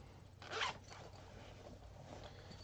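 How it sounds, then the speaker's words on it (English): A zipper at the top of a bag is pulled open in one quick, close zip, followed by faint rustling in a quiet room. "in here I've got this nice little zipper right here at the top"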